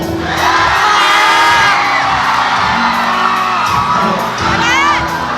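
Youth campers at a camp in Iba, Zambales shout and cheer together as a loud, continuous crowd roar with whoops and yells.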